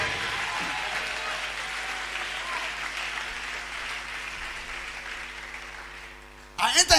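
A church congregation applauds steadily during a Sunday worship service, a dense, even wash of clapping that fades slightly before a louder, sharper burst of claps at the end.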